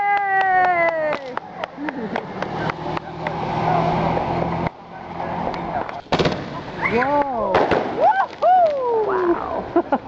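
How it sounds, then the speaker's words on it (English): A July 4th fireworks display in Kyle, Texas, heard up close: loud bursts and booms pop in quick succession, mixed with excited cheering and exclamations from people nearby. "I've never been this close to fireworks."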